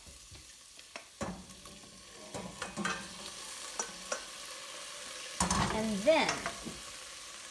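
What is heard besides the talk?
leaves pan frying with cooked pasta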